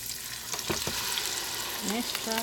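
A tomato mixture sizzles and fries steadily in a hot pan for Ghanaian fante fante fish stew, with a few utensil clinks and scrapes over the constant crackle.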